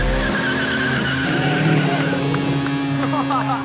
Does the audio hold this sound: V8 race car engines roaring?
yes